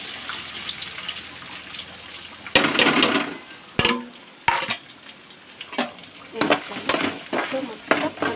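Onions frying in a pan, with soft sizzling and bursts of scraping and clattering as they are stirred, a spoon knocking repeatedly against the pan at close range.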